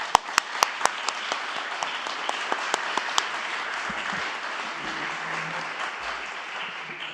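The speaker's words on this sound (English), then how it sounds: "Let's get a last round of applause to our panel." An audience claps warmly for a panel at the White House Recovery Month Summit, starting with a few sharp individual claps and swelling into a steady round of applause that gradually thins out.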